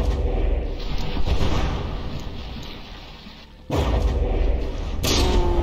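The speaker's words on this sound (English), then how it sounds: "As once again I take an explosion to the face." A shell explosion hits a battleship in the naval combat game From the Depths, giving a heavy rumbling blast followed by a sudden second loud impact and crackling debris.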